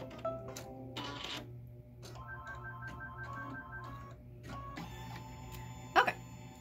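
A Kimberbell embroidery machine stitches out quilting in matching thread, giving a steady mechanical hum with rapid needle chatter and shifting motor tones, close up and fairly quiet, with a brief sharp clack near the end.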